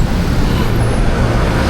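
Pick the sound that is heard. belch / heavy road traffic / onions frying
heavy road traffic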